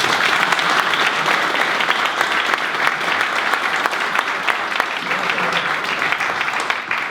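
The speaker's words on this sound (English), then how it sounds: "a big round of applause to our" An audience claps at the close of a talk, a dense, steady wash of applause from a crowd filling the room, sustained at even strength throughout.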